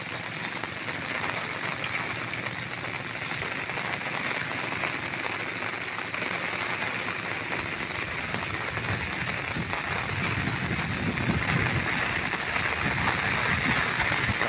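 A typhoon downpour on Burias Island roars on without letup, thick patter of raindrops hitting surfaces close by, growing slightly heavier toward the end.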